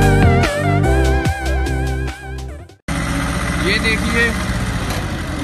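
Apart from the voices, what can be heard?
20 horsepower tractor engine pulling PTO driven trolley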